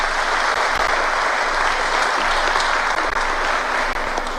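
An audience applauds at a community gathering, steady, dense clapping that stays loud and continuous from start to finish without speech.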